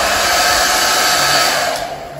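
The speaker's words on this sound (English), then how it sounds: "Do not go and use a blow dryer on your wig." A hair dryer runs continuously at close range, a steady loud whooshing roar with a faint motor whine above it, with no talk over it.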